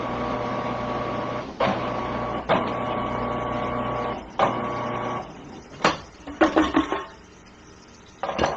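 A food processor pulses cheese and other ingredients in short bursts, a steady motor hum cut by a few stops and restarts, followed by a cluster of quick rattling clatters.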